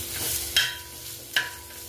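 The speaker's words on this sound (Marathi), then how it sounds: "कांदा फ्राय करून घेते मी आता, मस्त फ्राय करून घ्यायचं" Onion frying in oil and being stirred for a drumstick curry, a soft continuous sizzle broken by two brief scraping strokes of a spoon in the pan, close up and without speech.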